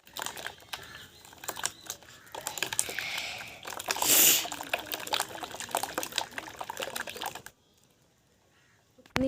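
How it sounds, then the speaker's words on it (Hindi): Water is poured into green pea dal to thin it in a village kitchen, a close trickling and splashing pour among light clinks and knocks that peaks midway, then stops into near silence. "तो हम पानी रख रहे हैं दोस्तों और इसे पतला करेंगे"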